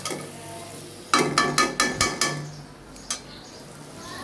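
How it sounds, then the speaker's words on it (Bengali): A metal spatula scrapes and knocks in a pan of fish roe bhuna, giving about six quick clattering strokes in a row, then a single later tap over a soft background. "নামানোর আগে আমি একটু আর একটু খুন্তি দিয়ে নাড়িয়ে নিব"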